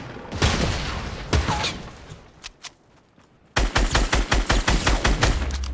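Gunfire in a Fortnite match: dense bursts of rapid automatic shots, a loud volley at the start, a brief lull, then a sustained close, rhythmic stream of shots to the end.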